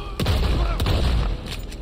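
Several heavy gunshots from a gun in the online multiplayer game Red Dead Online, a few sharp booming reports spaced irregularly, with the first two loud and close and later ones fainter.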